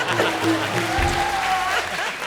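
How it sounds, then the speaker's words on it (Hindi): Studio audience applause on a Hindi comedy show, Comedy Circus, steady and fairly loud clapping throughout, overlaid by background music tones and some voices. "जोरदार तालियां, क्या बात है।"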